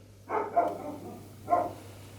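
A dog barks twice, muffled and somewhat distant, with a low steady hum in the background of a kitchen.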